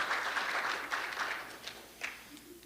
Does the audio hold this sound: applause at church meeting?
yes